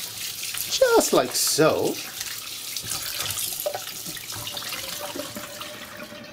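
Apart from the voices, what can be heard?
salted beef being rinsed under running tap water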